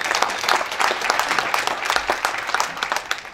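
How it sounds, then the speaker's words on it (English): Audience applause at an awards gala, a dense wash of many hands clapping steadily and loudly throughout, with no speech over it. "Let's give yourself a round of applause"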